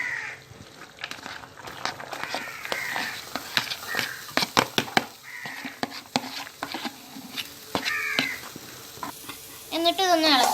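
Chopped mango ginger goes into a hot pan for pickle and is stirred, giving a soft sizzle with sharp scraping clicks of the spoon against the pan, while a voice talks and crows caw in the background.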